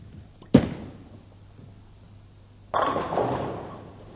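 A bowling ball smashes into the pins for a strike: one sharp crash, then quiet, then a later burst of rattling pins and lane clatter, with no talking.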